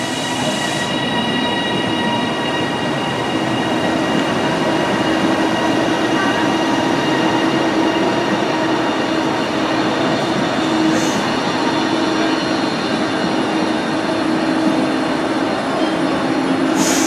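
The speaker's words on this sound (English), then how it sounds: "we are travelling on a Class 397 EMU to Lockerbie, which should be arriving now to take us into Scotland" A Class 397 electric multiple unit train running toward Lockerbie, heard as a loud, steady rolling rumble with a faint squeal from the wheels throughout.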